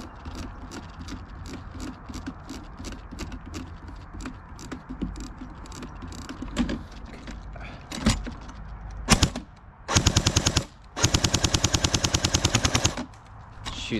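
A Cyma Sport AK47S RIS airsoft AEG rifle with a metal gearbox fires two loud, fast full-auto bursts in close range, the second one longer, after earlier scattered single shots and clicks.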